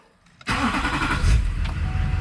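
A 2005 GMC Sierra 2500HD truck engine cranks and fires immediately after a battery swap, then settles into a loud, steady idle with a rumbling low end, heard up close.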